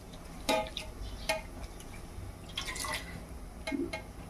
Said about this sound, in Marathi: धुतलेला बटाटा टाकून घेऊ